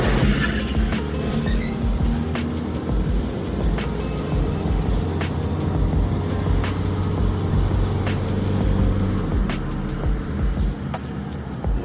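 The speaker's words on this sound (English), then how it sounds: "Big truck," A big water truck rolls past on a road in Negril, Jamaica, during Hurricane Beryl, its loud, heavy engine and tire rumble filling the whole stretch close by.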